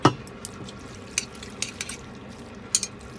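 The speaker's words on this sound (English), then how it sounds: "You keep mixing." Keto jjajangmyeon sauce with daikon radish and eggplant being mixed in a pan: soft, scattered scrapes and clinks of a utensil against cookware over a quiet background.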